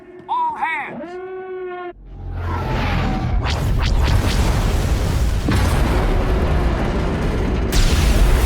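Heavy explosions from incoming fire pound a starship in the Jedi Knight video game: a short, tonal alarm-like warning gives way to a loud, sustained roar of booms and rumbling blasts.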